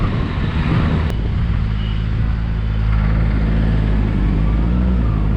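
Steady road traffic on a busy Sunday, a continuous low rumble of passing cars and engines, loud and close, with a brief sharp tick early on and no talking.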